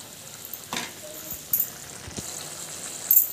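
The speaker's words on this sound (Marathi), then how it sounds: "शेंगदाण्याचं कूट टाकल्यानंतर आपल्याला 2 मिनिटं परत शिजवून घ्यायचे" Okra amti with peanut powder cooking in a pan, a faint soft bubbling and sizzle with a few sharp clinks and knocks scattered throughout.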